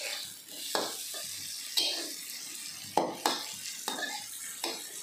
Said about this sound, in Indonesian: Selanjutnya kita goreng ya ikan asin jambalnya.